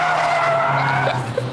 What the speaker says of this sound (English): there is a little bit too much understeer turning in, which will inevitably snap into oversteer on the way out.